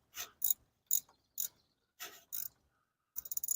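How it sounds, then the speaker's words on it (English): Ratcheting clicks from a wrench cranking a rusted bolt on a Dodge Dakota brake, in short separate bursts with a quicker run of clicks at the end, close and fairly quiet. "let's try to crank the bolt out while I pull on this thing"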